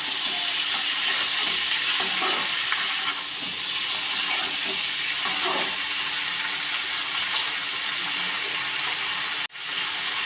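Onion, tomato, ginger and garlic sizzle steadily in hot oil in a pan, a dense continuous frying hiss with occasional stirring scrapes, ending with a brief clatter.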